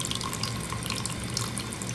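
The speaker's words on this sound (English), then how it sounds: "I'm gonna go ahead and run it under the water" Running tap water streams steadily over a raw smoky quartz crystal held under the faucet, a close, continuous splashing wash with no voices.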